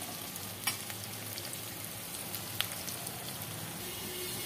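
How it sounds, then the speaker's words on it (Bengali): Onion and potato frying in oil until reddened, a continuous even sizzle like light rain, with a couple of small pops and a faint clink. "দেখুন পেঁয়াজটা আলুটা কি সুন্দর লাল হয়ে ভাজা হয়ে গেছে"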